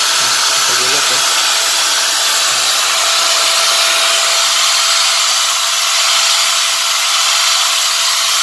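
Doliz BA730 electric blower running during an air output test, giving a loud, steady rushing whoosh of air that fills the whole stretch, with a brief voice at the start.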